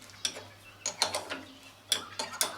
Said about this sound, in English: it takes forever to tighten this fucking end mill up because the collet is multi-fit